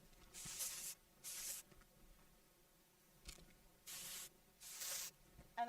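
Several separate bursts of texture spray hissing from an aerosol can over hair, each lasting about half a second, fairly close, with quiet pauses between them and no talking.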